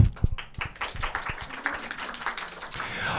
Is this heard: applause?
yes